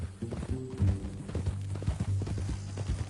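Horse hooves from Red Dead Redemption 2 clop in a steady, rhythmic walking pattern, close and continuous over a low background hum.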